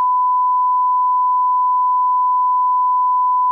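A single continuous pure beep tone, steady and loud for several seconds with nothing else audible.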